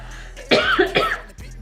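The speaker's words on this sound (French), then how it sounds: "Quand tu parles et que tu avales ta salive, tu tousses forcément" A man gives a couple of sharp, close coughs in quick succession, loud and raspy, with a brief throat-clearing quality, heard alone in a quiet indoor room.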